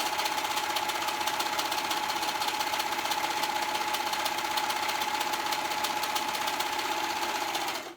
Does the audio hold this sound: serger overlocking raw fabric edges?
yes